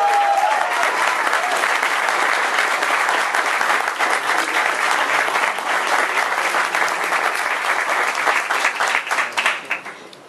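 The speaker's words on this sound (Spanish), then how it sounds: "Por favor, un aplauso para nuestro invitado." An audience at a Mexican rock icons talk in Real de Catorce applauds guest José Cruz, sustained dense clapping for about ten seconds that thins out and fades at the end.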